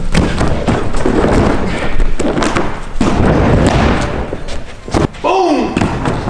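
Heavy thuds and slams from a stunt dive roll landing land several times in a loud, busy stretch, mixed with movement noise and overlapping speech.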